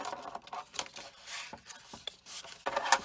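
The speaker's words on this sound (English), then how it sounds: "fold and burnish. Do that for each side." A scored paper card for a handmade gift card envelope is being folded and burnished. Soft, dry rubbing and scraping strokes repeat in short, uneven passes close by, with no talking.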